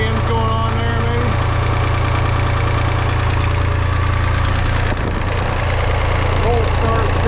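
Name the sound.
David Brown e26 tractor engine running at about 1,300 RPM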